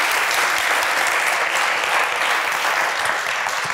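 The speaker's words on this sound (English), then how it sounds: "Applause." Crowd applause at a university science slam: loud, dense clapping from a full audience, steady and unbroken for the whole stretch.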